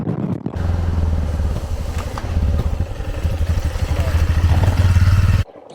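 An Aprilia Pegaso 650 trail bike rides along an unpaved byway, its engine a loud close steady drone with rattling and clatter over rough ground, cutting off abruptly at the end.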